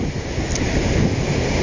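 Ocean surf washing in over a beach sandcastle, a continuous low roar of breaking waves with wind rumble on the microphone, steady and close throughout.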